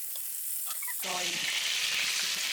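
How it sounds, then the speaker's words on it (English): Sausages dropped into a hot pan for browning before going into an Irish Dublin coddle, a sudden loud sizzle that swells and holds steady after a quieter start. "pop my sausages in. And I just want to just give them a little browning before."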